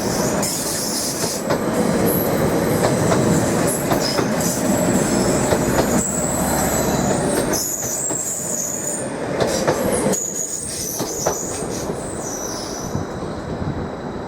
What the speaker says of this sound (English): units in multiple are now performing a stop move. Off they go. Now on diesel power.